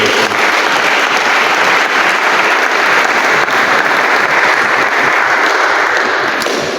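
Loud, dense applause from a large congregation at a spiritual teaching session, continuous clapping at an even level with no break across nearly seven seconds.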